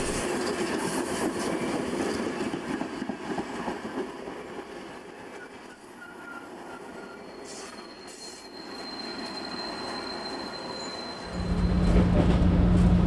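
A train rolls steadily along the rails with a constant rumble and high metallic squeal, and a louder low roar rises near the end.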